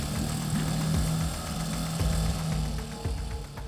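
Small outboard engine mounted on the back of a rescue boat, with a rudder, running steadily with a throbbing drone close by.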